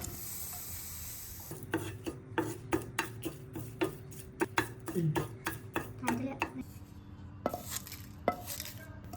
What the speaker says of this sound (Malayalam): ഇനി നമുക്ക് രണ്ട് തണ്ട് കറിവേപ്പില വറുത്തെടുക്കണം